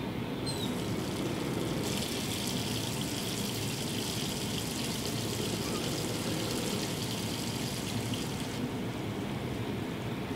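A bathtub fills with water in the video game Life is Strange 2: a steady, even rush of running water pours continuously at moderate level, with no talking over it.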